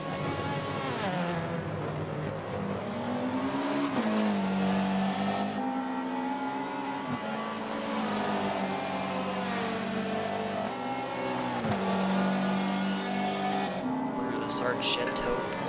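Race cars at Road America, a Chevy Cruze chasing an Audi, their engines droning and shifting pitch continuously under steady commentary, with revs rising and falling as gears change.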